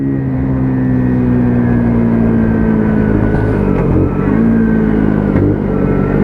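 A white WK Colt 50cc motorbike engine drones steadily and loudly throughout a test ride, its pitch shifting slightly as it revs and changes gear, with road and wind noise mixed in and no talking.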